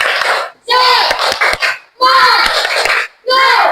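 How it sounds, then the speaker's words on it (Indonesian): Classroom of fourth-grade children clapping a group cheer rhythm together, loud bursts of hand claps and shouted chant in three surges with short pauses between. "mari sama-sama kita tepuk semangat dulu"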